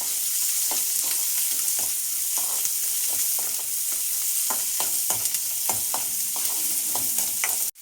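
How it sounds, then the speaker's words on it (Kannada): Onions frying with mustard seeds in a pan for a snake gourd sagu: a constant hot sizzle with frequent scraping stir strokes that quicken toward the end, close and continuous. "ಈರುಳ್ಳಿ ಹಾಕ್ಕೊಂಡು ಒಂದು 2 ಸೆಕೆಂಡು ಈರುಳ್ಳಿ ಫ್ರೈ ಮಾಡ್ಕೊಳ್ಳಿ"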